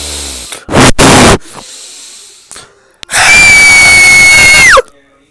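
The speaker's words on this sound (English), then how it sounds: "Today I'm gonna be trying to scream as loud as I possibly can" A person screams as loud as possible in several bursts: a short blast, then a longer sustained full-force scream that rises and breaks off, with breathing and quiet gaps in between.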